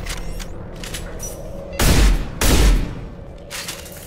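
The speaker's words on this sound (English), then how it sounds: "I don't really like the scimitar shotgun." Two heavy, booming blasts from the Scimitar shotgun in Mass Effect 2 land close together, loud and close, over a backdrop of softer combat noise with no talk.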